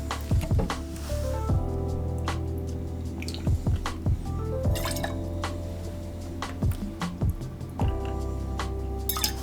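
Fresh lemon being squeezed for a whiskey sour, juice dripping and trickling in irregular patters with small wet squishes, close up over a faint steady background hum.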